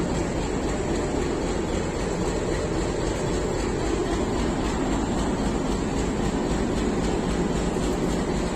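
Pakistan Railways Hazara Express hauled by locomotive PH-28306, a loud continuous rumble of the train rolling close by with faint rhythmic clatter, no voices.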